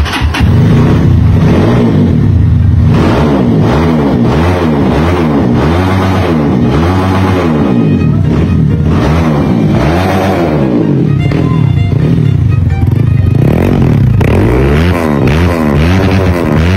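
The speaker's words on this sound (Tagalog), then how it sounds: "Mandar na yung makina." A car engine runs loud and close, revving up and down repeatedly in rising and falling sweeps with no talking.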